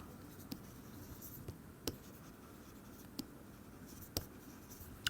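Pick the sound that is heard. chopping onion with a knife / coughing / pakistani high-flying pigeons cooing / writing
writing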